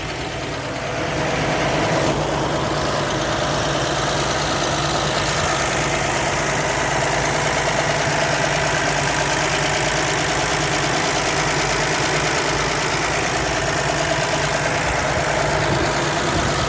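A 1976 Toyota FJ40's factory 2F 4.2-liter engine idles steadily up close, a loud even rumble that settles in after a brief rise at the start, with no talking.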